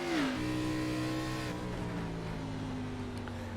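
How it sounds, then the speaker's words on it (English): In a racing video game at New Hampshire, a race car engine revs up and then settles into a steady harmonic drone near the listener. A short rising whine comes at the start, with no voices. "Listening to Drew Jua's car."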